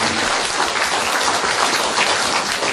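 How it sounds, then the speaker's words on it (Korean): Loud, dense applause from guests at a charity sponsors' evening honoring supporters, a thick rain-like wash of many clapping hands that holds steady without pause. "그분들을 위해서도 큰 박수를 부탁드립니다."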